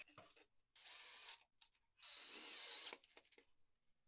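A power drill bores screw holes into a wall to mount a shop wall cabinet with sliding doors. Two sustained, close drilling bursts are separated by short mechanical clicks and rattles, with no talk.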